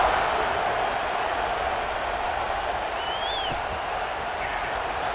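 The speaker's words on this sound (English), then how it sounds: "this crowd is buzzing after that last score" A stadium crowd in a college football video game cheers after a score, a broad steady roar of many voices with light applause running throughout.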